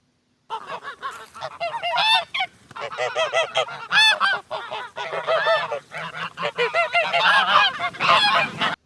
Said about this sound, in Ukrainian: Так, дітки, це гусак.